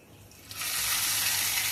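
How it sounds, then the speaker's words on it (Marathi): Hot tempering (tadka) poured onto a yogurt chutney, breaking into a loud, sustained sizzle after a quiet start and crackling steadily to the end. "तर बघूया, आपण तडका टाकूया."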